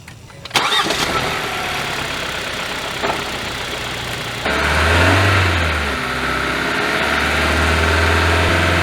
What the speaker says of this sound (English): we're going to be holding that rev for 9 minutes at about 2400 RPM